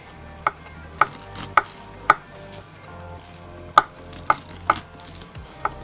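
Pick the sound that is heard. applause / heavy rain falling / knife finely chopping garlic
knife finely chopping garlic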